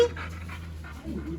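Lucky, a dog, pants in quick rhythmic breaths close by, with a low steady hum running under it and a brief dip near the end.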